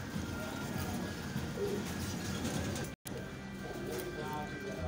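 Lowflyer pigeons for sale in Faisalabad coo softly and steadily in a low, continuous murmur, with a brief dropout midway and some background voices.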